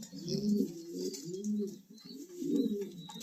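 Belgian racing pigeons coo in steady, rolling phrases, three or four low throaty swells repeating close by with faint chirps above.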